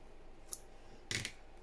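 Two short, crisp snips of scissors cutting, close by, with a brief pause between them and quiet room tone around them.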